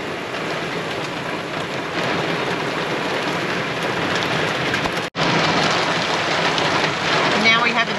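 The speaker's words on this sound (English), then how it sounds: "nice bit of rain" Steady heavy rain pours down at a river camp in high country with a camper trailer, a dense continuous hiss filling the whole stretch, briefly cutting out near the middle before resuming just as loud.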